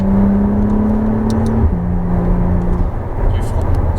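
McLaren Artura accelerating hard on a race track, a loud close cabin drone with a steady engine tone that steps down in pitch as a gear changes, then pulls on evenly.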